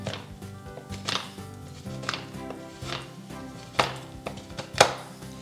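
A knife chops a block of dark chocolate finely on a board, a steady series of sharp close knocks that grows louder toward the end, with no talk.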